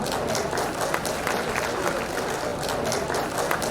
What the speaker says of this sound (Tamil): உங்கள் பலத்த கைத்தட்டல்களை பதிப்பதற்கு